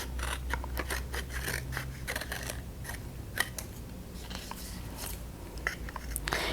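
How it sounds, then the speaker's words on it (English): Scissors cut around a paper picture for decoupage, with close, crisp snips in an uneven rhythm of short bursts against a low background hum, no voice. "I'm going to cut around it"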